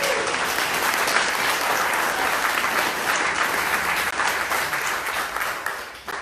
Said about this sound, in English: People would clap